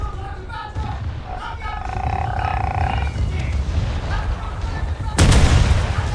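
Gunfire striking a ship in a naval combat video game, rumbling booms and rattling impacts under a steady low roar, ending in a loud close blast, with no clear speech over the battle noise.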